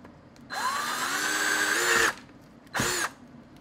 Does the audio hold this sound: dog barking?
no